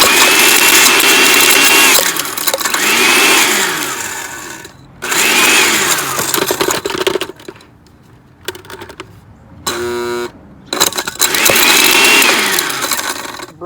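A blender loudly whirs and grinds an iPhone 4s in several long, harsh bursts separated by short pauses and rattling, close and dominant with no talking.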